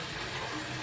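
Water rushes steadily into a cooking pot of pea curry being made in a mess kitchen, a short continuous pour with a soft, broad splashing hiss.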